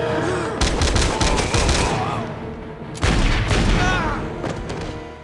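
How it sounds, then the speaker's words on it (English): Two loud, sharp reports from a Desert Eagle .44 Magnum prop gun firing blanks, each a close, booming blast with a ringing tail, spaced about two and a half seconds apart. "This is quite the cannon when it fires because it is a big caliber."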